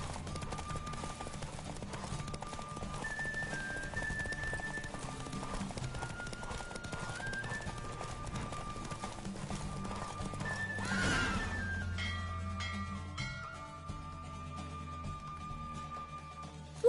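Horse galloping and neighing in The Witcher video game, rapid clip-clop hoofbeats under game music, with a loud whinny around the middle before the music carries on.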